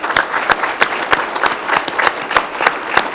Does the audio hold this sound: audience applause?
yes